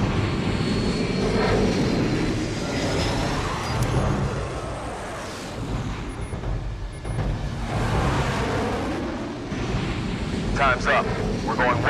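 A fixed-wing aircraft drones loudly and steadily overhead in a tense TV drama scene aboard a consular flight, with wind buffeting and a roaring engine throughout the stretch.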